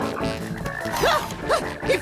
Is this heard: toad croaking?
yes